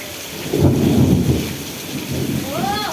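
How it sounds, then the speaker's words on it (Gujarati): Heavy monsoon rain pours steadily over a village in Ranpur taluka, Botad, with deep thunder rumbling loudly through it. "કેટલો વરસાદ પડી રહ્યો છે વીજળીના કડાકા ભડાકા સાથે"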